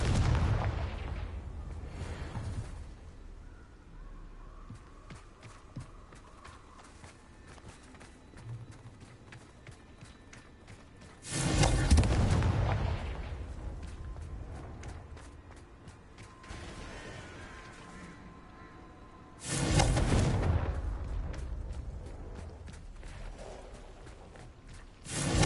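Confringo explosive spell blasts in Hogwarts Legacy land as a few loud, broad bursts spaced well apart, each with a sharp onset and a decaying rumble against a quiet, faint background.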